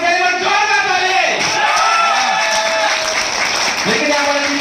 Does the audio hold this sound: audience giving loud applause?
yes